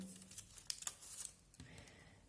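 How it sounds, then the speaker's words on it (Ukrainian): Paper crinkles and tears as scissors cut a square of paper corner to corner into a triangle for a children's winter landscape appliqué; soft, close rustling with a few sharp snips in the middle, then quieter handling. "Нам потрібно ножицями від одного куточка до іншого розрізати."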